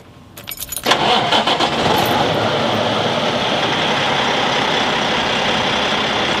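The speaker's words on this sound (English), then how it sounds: "So let's start the engine and check the measurements." A Cummins ISX15 truck diesel with a high-pressure internal fuel leak from bad injectors cranks and fires, then settles into a loud, steady, broadband idle rumble close by.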